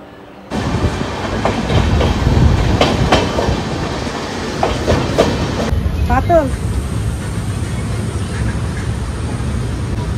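The Saraighat Express, on the Howrah to Guwahati route, runs loudly along the tracks, wheels clattering in a steady clickety-clack, with a brief high squeal partway through.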